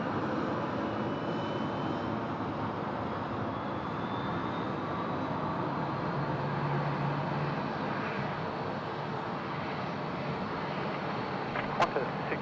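A jet airliner rumbles at Sydney Airport, a broad steady roar that holds at an even level from start to finish with a faint tower radio voice beneath.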